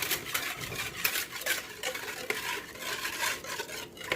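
A whisk stirs brown sugar in a mixing bowl, a steady close scraping and clattering rhythm with repeated taps against the bowl sides, continuous and moderately loud with no talk.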